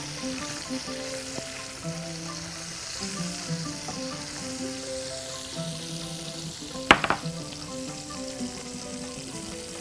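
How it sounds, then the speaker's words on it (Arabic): Tomatoes sautéing with spicy pepper in a pan give a steady close sizzle and fry that holds for about ten seconds, with a brief clatter of stirring near the middle of the stretch. "هنزل بالطماطم تاخد تشويحة مع الفلفل السبايسي بتاعنا"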